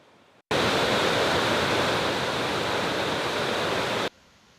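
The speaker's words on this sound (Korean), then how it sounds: "우리나라에서 가장 긴 설악산 토왕성 폭포입니다." Towangseong Falls in Seoraksan, a three-tiered waterfall dropping 320 m, roars as a loud, steady wash of white noise that cuts in abruptly, holds for about four seconds and stops.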